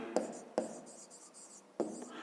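A pen writes by hand on paper during a fifth-grade math exercise. Close scratchy strokes are broken by three sharp taps, and there is no talk.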